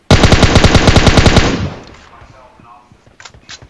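Rapid automatic gunfire in the mobile battle-royale game PUBG Mobile, a loud close burst of evenly spaced shots lasting over a second, then fading into quieter echoes and a few scattered distant shots.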